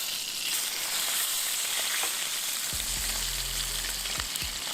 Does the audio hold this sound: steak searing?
yes